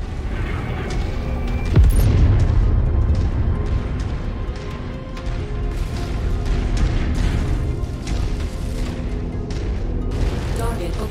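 Deep booming blast of a VTOL aircraft being destroyed in MechWarrior 5: Mercenaries, a loud low rumble around the two-second mark over continuous mechanical game noise and occasional voice chatter.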